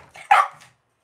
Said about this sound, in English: Stop it, dog.